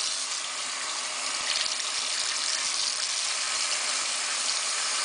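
Tap water runs into a sink in a steady, even rush of hiss and splash, close and constant throughout, with no voices.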